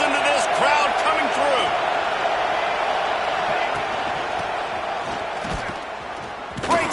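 A football stadium crowd roars in a loud, sustained cheer that fills the whole span, with a thud near the end.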